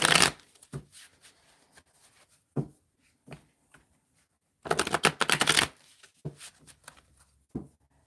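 Playing cards being shuffled at close range in a quiet room, with short riffling bursts and taps scattered throughout and a longer, louder riffle in the middle, no talking.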